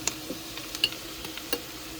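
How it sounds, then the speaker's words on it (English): Hatch green chilies stirred into scrambled eggs in a pan in a tiny RV kitchen, a faint sizzle under light, irregular scrapes and taps of the utensil. "And we'll give this a stir."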